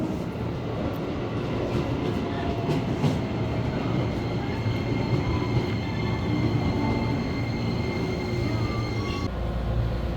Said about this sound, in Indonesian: tepat jam 8:34 kereta yang arah Rangkas pun akhirnya datang nih